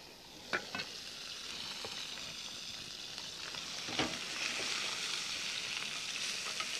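Chicken pan-frying with finely chopped shallots, a constant close sizzle of hot oil with a few sharp stirring scrapes and taps across the pan, no voices.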